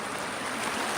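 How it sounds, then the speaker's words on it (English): Water flowing in an outdoor stream or pond where ducks and geese usually gather, a steady broadband rushing wash that stays even and continuous throughout, with no voices. "I love the sound of water flowing"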